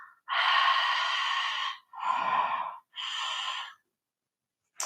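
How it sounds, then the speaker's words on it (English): Ujjayi breathing through a slightly constricted throat with the mouth gently closed, heard as three long, close, hissing breaths separated by short pauses, with no talk. "It's called Ujjayi breath, breath with sound."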